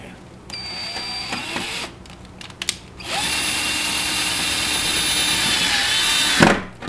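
A power drill driving a drywall screw into a plastic drywall ring tab, with a high whine in a short burst, a pause and a couple of clicks, then a long steady run that ends abruptly, close up.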